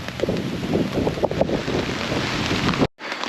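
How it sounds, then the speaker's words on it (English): Strong storm wind buffets a campsite during a wet, windy storm, a continuous loud roar of gusts and microphone buffeting with rain-like hiss, briefly cutting out near the end before resuming. "The wind direction just shifted right into my face."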